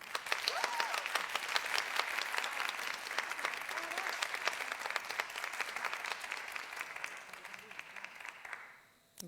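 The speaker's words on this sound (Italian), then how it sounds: "Applauso." A crowd applauding a contestant at a Neapolitan talent show, dense sustained clapping that fills the room, then stops abruptly at the end, with a voice talking faintly underneath.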